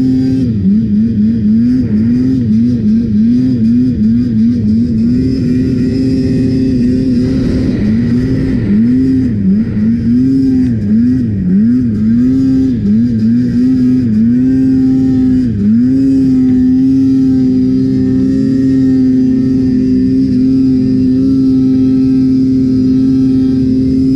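Polaris snowmobile engine droning steadily while riding, with a loud continuous whine that rises and dips in pitch as the throttle changes, close and unbroken throughout.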